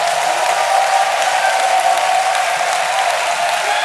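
A church congregation at an evangelism school gathering in Abidjan breaks into loud, sustained applause, a dense steady wash of clapping that fills the room without letting up.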